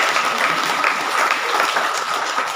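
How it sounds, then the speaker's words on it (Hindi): A hall full of people at a motivational meeting claps loudly, a close, dense and continuous burst of applause with no talk over it. "एक बार फिर से जोरदार ताली होना चाहिए।"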